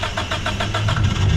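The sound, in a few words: car driving by in the background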